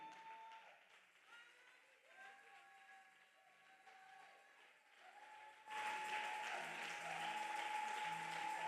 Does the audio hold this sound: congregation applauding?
yes